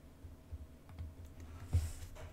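Faint keystrokes on a computer keyboard while a username is entered into an OpenVPN client: sparse, irregular soft taps with one slightly louder press near the end, over a low background hum and no talking.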